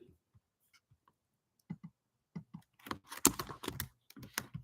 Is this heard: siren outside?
no